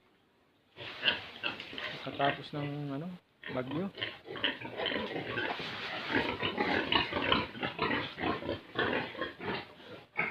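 Pigs grunt and squeal repeatedly, loud and close, in a storm-damaged piggery with a wrecked roof, while someone talks over the noise.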